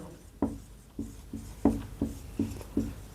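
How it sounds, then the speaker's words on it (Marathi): A pen scratches across paper in about seven short, distinct strokes with brief pauses between them, close and fairly quiet, with no talking. "उदाहरण दुसऱ्या पेनने लिहितो"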